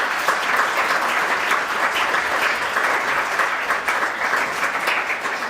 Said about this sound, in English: he deserves a huge round of applause for that